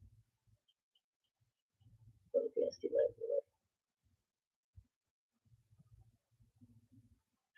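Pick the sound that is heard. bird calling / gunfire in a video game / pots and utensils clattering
bird calling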